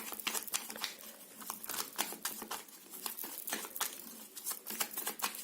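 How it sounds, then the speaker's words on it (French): Lenormand cards shuffled by hand, a rapid run of crisp papery riffles and slaps in an uneven rhythm, close and fairly quiet with no voice over it. "Je bats les cartes."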